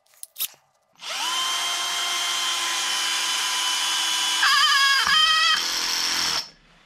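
A 12V cordless Parkside drill drives a screw into wood, whining at a steady pitch for about five seconds, then its tone shifts and stutters as the screw seats before the motor stops, with a couple of clicks before it starts.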